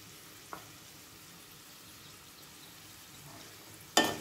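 Thin potato slices frying in a pan with sugar and salt, a faint steady sizzle with a light stir knock early on and a sharp clatter near the end, no talking.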